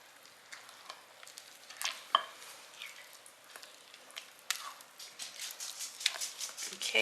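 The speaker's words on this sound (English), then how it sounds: "Give it a little stir" A spoon scrapes and clinks in a bowl as milk is stirred into a mixture in a home kitchen. Soft, irregular scraping and tapping go on continuously at close range, with no talking.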